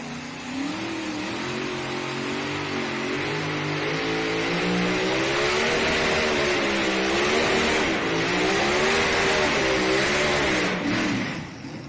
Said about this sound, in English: And just not able to get that tractor to hook up.